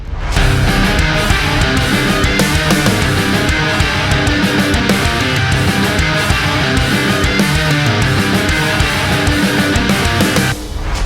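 A heavily distorted electric guitar through a Boss DS-1 distortion pedal with a Grind pedal plays continuously with dense, driving chords, loud and up close for the whole stretch, stopping abruptly near the end.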